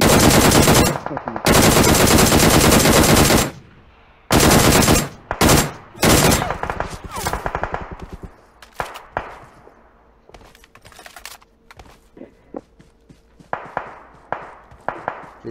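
Gunfire in the battle-royale shooter PUBG Mobile: long loud bursts of automatic fire, then choppier short volleys and scattered single shots that thin out and grow fainter before a few closer shots return.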